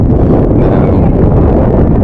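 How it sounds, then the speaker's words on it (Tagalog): A loud, constant roar of strong, cold wind in Taichung blasting against the microphone, steady with no pauses. "Lakas ang hangin."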